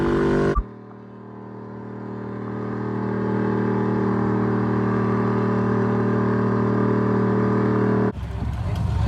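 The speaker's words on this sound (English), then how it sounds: "he's got just a small motor in there. It's only a 383 stroke." A truck with a 383 stroker engine roars at a steady, loud, sustained pitch while pulling a sled, the engine note holding for several seconds before cutting off abruptly.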